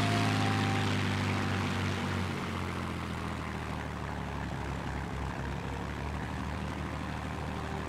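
Propeller aircraft engine in the flight game World of Warplanes, a steady droning roar with buzzing harmonics that shift slightly in pitch as the plane flies, loud and continuous without speech.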